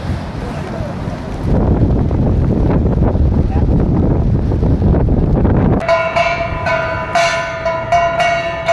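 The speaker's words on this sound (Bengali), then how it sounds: "এখানে হালকা বৃষ্টিপাত হচ্ছে আর প্রচণ্ড হাওয়া, ছাতা রাখা যাচ্ছে না।" Strong gusting wind with light rain on Puri beach, a loud continuous rush buffeting the microphone, followed by ringing bell-like tones from a seaside evening ceremony.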